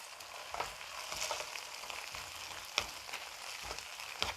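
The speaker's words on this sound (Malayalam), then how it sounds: "ഇനി നമ്മളിതിലേക്ക് നമ്മുടെ വറുത്ത് വെച്ചിരിക്കുന്ന ചിക്കൻ ഇട്ട് കൊടുക്കുക നന്നായിട്ടൊന്ന് മിക്സ് ചെയ്യുക" Fried chicken pieces are stirred into tomato sauce in a hot pan, giving a steady close sizzle broken by scraping stir clicks, with no talking.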